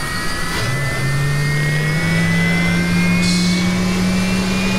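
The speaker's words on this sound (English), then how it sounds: "Start the engine." Jet engine starting in the X-Plane 10 flight simulator: a loud, steady turbine whine and drone with a pitch that climbs slowly and holds, no talking over it.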